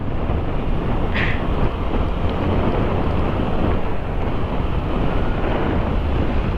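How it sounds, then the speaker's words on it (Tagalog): Strong wind roars against a rider's helmet on a motorcycle with the visor open on the Marilaque Highway, a loud, steady broadband rush that covers everything else, with no talking. "Mahangin."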